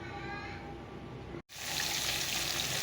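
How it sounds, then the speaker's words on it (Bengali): Fish sizzles and spits in hot oil in a wok, a steady close frying hiss that cuts out briefly midway and then returns louder and brighter. "মাছগুলো দিয়ে দিলাম চলো ভেজে নেই"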